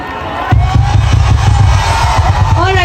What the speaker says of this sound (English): Everybody, can we have a huge round of applause for him?